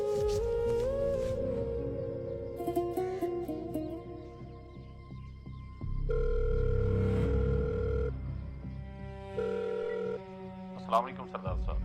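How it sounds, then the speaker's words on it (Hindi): Telephone tones beep in short steady bursts as a police station number is dialed and rung, with dramatic film music and voices mixed around them. "मुंशी नंबर मिला एसएचओ दा।"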